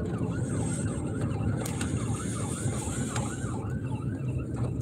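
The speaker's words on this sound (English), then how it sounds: "Uh-oh, I see an ambulance." An ambulance siren wails on the road in a repeating rising-and-falling pattern, moderately distant and faint over steady traffic rumble.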